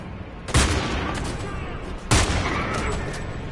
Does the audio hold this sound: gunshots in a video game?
yes